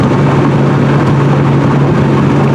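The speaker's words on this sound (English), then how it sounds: "My poor 46-year-old car is being shaken to death." A 46-year-old car driven over rough Michigan roads, heard from inside as a loud, steady low engine and road roar with a constant drone and shaking rumble, no voices.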